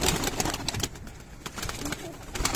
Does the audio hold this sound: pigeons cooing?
yes